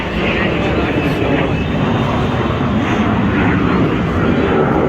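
A loud, steady roar of Indian Air Force Suryakiran jets flying past fast at an air show over Marine Drive, Mumbai, fills the whole stretch, with a person talking over it.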